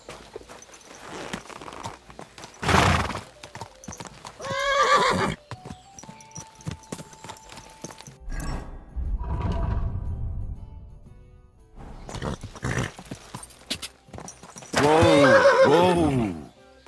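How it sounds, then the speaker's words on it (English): A horse neighs loudly several times while its hooves clip-clop on hard ground, heard nearby in a medieval town scene from a game, with speech in between. "This horse must have cost a pretty groschen."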